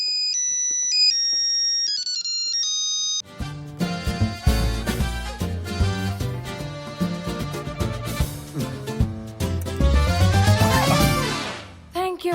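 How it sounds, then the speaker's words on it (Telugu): A phone ringtone plays loudly: a short electronic beeping melody, then a full synthesized musical tune with beats that keeps ringing. "సార్, డార్లింగ్ గారు ఫోన్."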